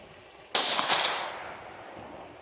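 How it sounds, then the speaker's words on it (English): A single rifle shot fired at a target through a Cvlife BearMight 6-24x50 34mm scope, one sharp crack followed by a fading outdoor echo. "I'm just going to fire one into the white and see if I'm hitting where I think I am."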